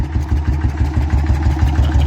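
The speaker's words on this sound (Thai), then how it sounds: "มันช้าต้องเร่งเครื่องเยอะนะครับ" A motorcycle hauling fertilizer up a steep rocky slope labors loudly at steady revs, its engine thumping in a fast regular pulse close by.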